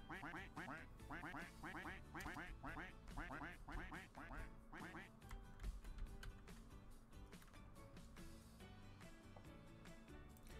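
Rapid repeated duck quacks from the Roblox game Duck Army fill the whole stretch in dense rhythmic bursts over game music, loud and steady, with a voice talking faintly underneath.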